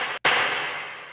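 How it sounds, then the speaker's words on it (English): An Oberheim DMX clap sample with hall reverb sounds once: a sharp, bright hit, then a long, smooth, fading reverb tail. It follows the abrupt cutoff of a previous sound, heard alone with no voices. "The clap is an Oberheim DMX sample."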